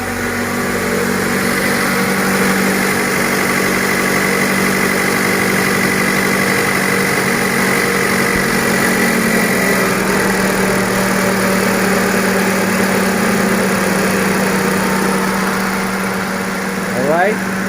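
A Mazda CX-5 engine idles steadily and loudly nearby, a constant low hum with vibration throughout, with a faint sweep near the end.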